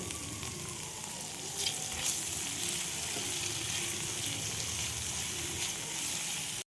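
Tomatoes dropped into a pan of frying spices with bell pepper, capsicum, ginger and garlic, giving a steady close sizzle with a brief stirring burst midway, no talk.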